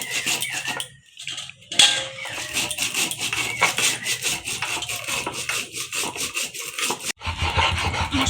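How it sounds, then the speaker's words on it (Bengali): Dried chillies and spices are ground by hand on a grinding stone, close scraping and rubbing strokes of stone on stone in a steady back-and-forth rhythm with brief pauses. "মশলা বাটা হয়ে যাচ্ছে আমার"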